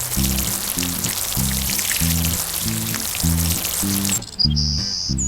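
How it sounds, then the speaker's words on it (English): Water pours and patters steadily as plants and trees are watered in a children's video game, a continuous splashy hiss over a bouncy looping tune that ends with a bright chime. "Water patches and trees to grow up fruit."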